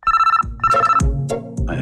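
A telephone rings in a Hindi film scene, sounding in two close bursts of a bright electronic ringtone with short gaps, loud and near, with other soft room sounds underneath and no speech.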